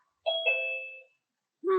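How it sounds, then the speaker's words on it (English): A doorbell rings a clear two-tone ding-dong chime, loud and close in a quiet room, the second tone ringing out before a third chime starts at the end. "I get a big ding dong on my end."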